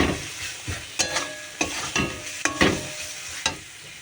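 Spice masala being stir-fried in a pan with a spatula for a potato and soya chunk curry, sharp rhythmic scraping strokes about every half second over a continuous close sizzle.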